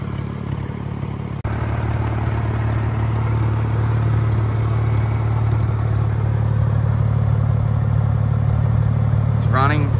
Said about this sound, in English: It's running, idling perfectly.